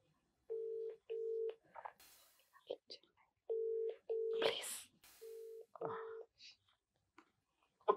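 A phone call being placed during a prank on a Telugu interview show: repeated paired electronic dialing and ringback tones in a steady on-off pattern, with faint voices and clicks between them.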